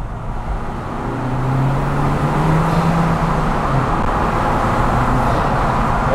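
Honda Civic FK7 with a custom air cleaner pulling hard in second gear on an open road, engine note rising steadily in a smooth continuous drone heard from inside the car.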